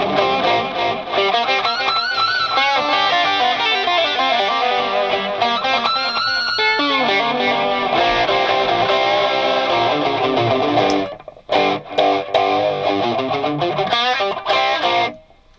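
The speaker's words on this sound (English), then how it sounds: "here it is after." Fender electric guitar through a modded Boss SD-1 Super Overdrive pedal into a Marshall half stack, played as sustained, loud, gritty overdriven chords and phrases for about fifteen seconds, briefly breaking up with short choppy strums near the end.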